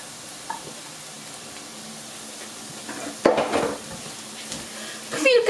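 Garlic sizzles and crackles in a hot pan, with a spoon clattering and stirring louder near the end.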